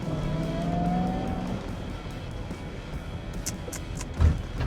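A BMW E39 540i with a V8 engine and manual gearbox accelerates, its engine tone rising briefly and then settling into steady road rumble and tyre noise, with a short bump near the end and no talk.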